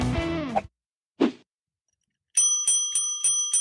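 A man imitates a bell with his nose, producing a series of quick, bright ringing tones that repeat rapidly near the end, after a short vocal sound and a moment of silence.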